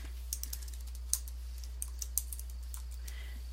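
Quick, light keystrokes as a file name is typed on a computer keyboard, a short irregular run of soft clicks over a low steady hum, no talk.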